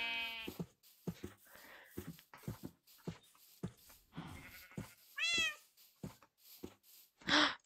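Sheep bleat in a farming video game, with two clear, wavering bleats standing out near the end among softer in-game animal calls and clicks.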